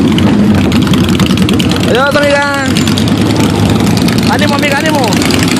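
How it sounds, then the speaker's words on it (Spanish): Harley-Davidson motorcycles ride past on a street in Calvillo, Aguascalientes, their engines a steady loud rumble throughout, while someone talks over them and calls out. "Aquí vienen los de la Harley."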